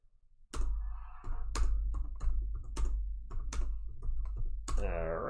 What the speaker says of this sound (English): I hope this isn't too clicky with me typing